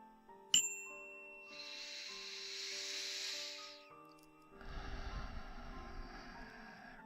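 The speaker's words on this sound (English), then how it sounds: "I still have access to my little wind chimes" Small wind chimes ring with a sharp first strike and a long, clear metallic shimmer, followed by a softer, rustling jingle in a quiet room; no talking.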